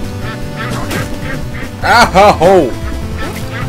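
Cartoonish duck quacks from the Legend of the Brofist video game, three loud honking bursts in quick succession over busy game sounds, with a voice briefly crying out.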